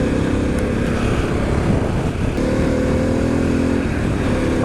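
A Harley-Davidson Pan America motorcycle engine drones steadily while riding, a loud continuous rumble with wind noise and a slight shift in pitch partway through.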